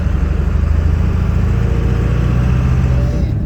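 A heavy 7.3 Powerstroke diesel engine rumbles steadily at close range, a deep continuous drone of a truck pulling a loaded trailer, with no voices.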